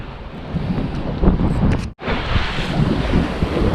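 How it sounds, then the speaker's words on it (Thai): Strong sea waves surge and crash against a coastal cave wall in a loud, continuous wash, mixed with heavy wind buffeting the microphone and a brief sharp dropout midway. "น้ำแรงมากอะ กระแทกกับผนังถ้ำ"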